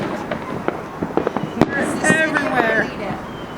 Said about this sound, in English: We can see fireworks everywhere.